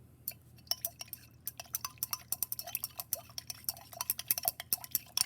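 Glass stirring rod swirling carbonate salt in a beaker to dissolve it, giving a rapid, irregular series of faint clinks and taps against the glass, close and alone.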